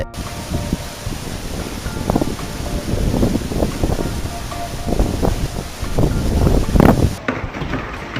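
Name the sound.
strong wind blowing at waterfall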